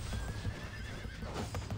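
Horse neighing and whinnying from the Dragon Raja video game, with steady clip-clop hoofbeats running under it throughout, close and fairly loud with no talk.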